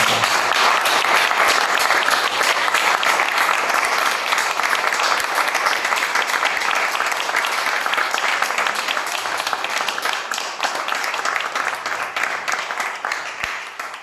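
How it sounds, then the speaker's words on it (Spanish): Sustained audience applause at a tango academy congress honors Rodolfo Dinzel and Gloria, a dense wash of many hands clapping steadily for the whole stretch and tapering slightly near the end. "para quienes pido un aplauso."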